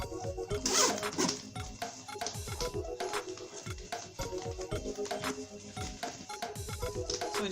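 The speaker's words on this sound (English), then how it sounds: "I want to zip the bag." A zipper being pulled along a handmade padded Ankara fabric box bag, giving repeated close, scratchy zipping strokes in an uneven rhythm with a few light clinks, no talking.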